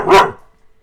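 A single short, sharp dog bark rings out close and loud, then cuts off into near silence, with no talking over it.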